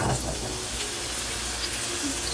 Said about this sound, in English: You gotta sizzle half of it first, and then you sizzle the other half later.